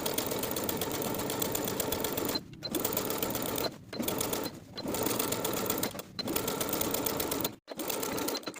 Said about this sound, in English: then sewing the facing to the seam allowance underneath with about 1/8 of an inch seam allowance all the way around